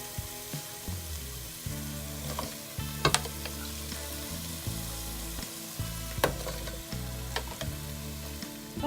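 Potatoes fry in a pan of tomato-based curry sauce and are stirred. A close, steady sizzle is broken by repeated scraping and clacking knocks from the stirring spoon, with no voices.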